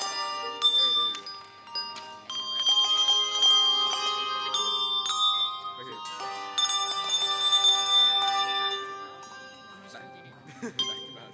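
Handbells played by a school bell orchestra at a chapel service ring in layered, sustained tones that overlap and decay across the passage, with a voice briefly speaking over them.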